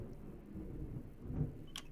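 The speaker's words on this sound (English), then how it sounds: "I think lightning has just struck the building right next to me." Thunder from a lightning strike on a building close by: a low, continuous rumble that swells briefly past the midpoint, with no voices.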